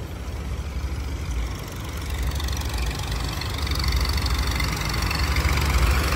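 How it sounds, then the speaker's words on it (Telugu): Large dewatering pump engines run steadily at a flooded High Court construction site, a dense, continuous low mechanical drone with broadband rumble that gradually swells louder, with no voices. "బాబా అక్కడికంటే ఇవి చాలా పెద్ద ఇంజన్స్ అనమాట."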